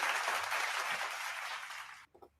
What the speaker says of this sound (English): Always stepping on the applause.